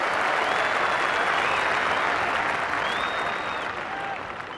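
Crowd applause at a 1990 England v India Test cricket match, a dense sustained clapping from a large audience, steady and then gently fading toward the end.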